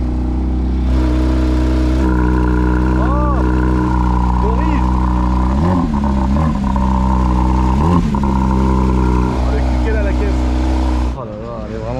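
A nearly new Porsche Boxster with 407 km on it, its engine droning loud and steady with a couple of rising revs, close by, the sound cutting off near the end.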